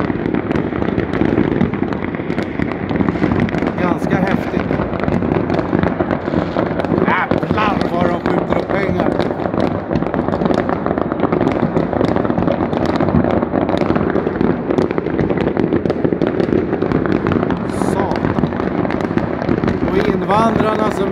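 New Year's fireworks burst continuously over Stockholm's Norsborg area, a dense, loud barrage of crackles and bangs with overlapping distant and nearby explosions, with people talking at times beneath the noise.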